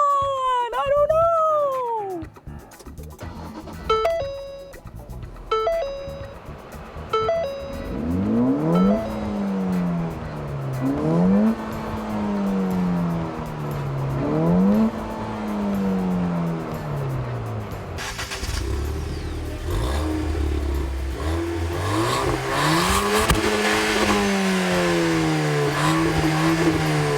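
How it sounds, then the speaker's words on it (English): Turbocharged American enthusiast car engine revving repeatedly, several rising and falling sweeps building into a longer climbing pull, close and fairly loud, with occasional talk. "American turbocharging right there, y'all."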